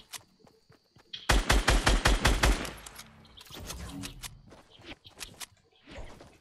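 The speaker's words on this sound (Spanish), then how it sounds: "Están disparando aquí a muerte." Rapid bursts of automatic gunfire ring out in a Fortnite match: a loud volley of sharp shots, then scattered quieter shots and movement sounds. No voices are heard.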